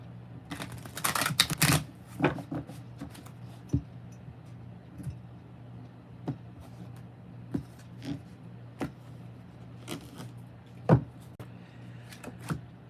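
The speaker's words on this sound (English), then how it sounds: "let's go ahead and pull some tarot cards." Tarot cards being shuffled and pulled: a fluttering riffle burst at the start, then sparse soft slaps and clicks of single cards being laid down, faint and close.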